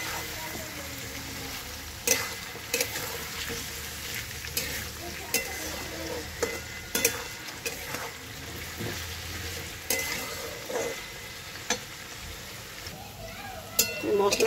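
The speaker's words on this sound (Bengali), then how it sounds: "আলুগুলোকে পেঁয়াজের সঙ্গে ভেজে নেব।" Potatoes fry with onions in a pan, a continuous sizzle broken by repeated sharp spatula scrapes and clanks as they are stirred. Someone talks through the cooking.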